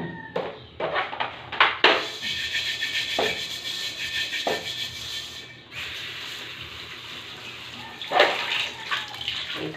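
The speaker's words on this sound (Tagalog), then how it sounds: "hugasan natin ang ating kawali" A frying pan washed under running tap water in a home kitchen, with splashing and rushing water, scraping and knocks of the pan, close and moderately loud, and no voices.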